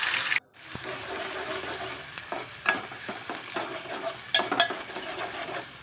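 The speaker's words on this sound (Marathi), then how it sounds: "आता कांद्याची फोडणी मारायला." Chopped onion is stirred in hot oil in a pot, a soft sizzling fry with scraping stir clicks at irregular intervals, close and fairly quiet, after a brief sharp cut at the start.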